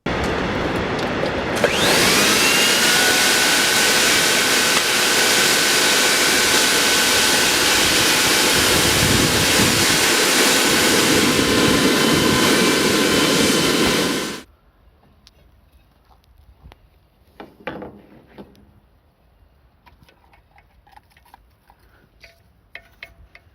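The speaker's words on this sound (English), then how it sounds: "run the blower at maximum power" A blower on a coal forge roars at full power, a loud, steady rushing that holds for about twelve seconds and then cuts off abruptly, leaving quiet clanks and taps.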